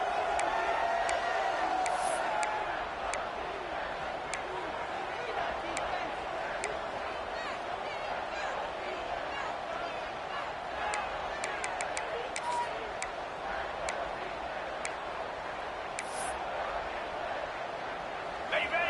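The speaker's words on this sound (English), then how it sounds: "The crowd elevating its energy, willing this defense to get a stop on this big 3rd down." A stadium crowd at a college football game between Air Force and SJSU keeps up a steady, roaring din of cheering and whooping, with scattered sharp claps and shouts rising above it.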